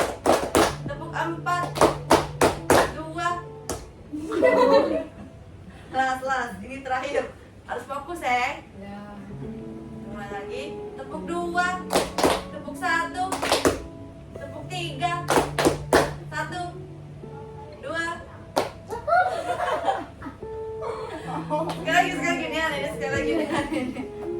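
A counselling group claps hands together in counted patterns of two, one and three, sharp bursts of clapping alternating with a leader's spoken counts and instructions, with the group's rhythmic claps set between stretches of talk.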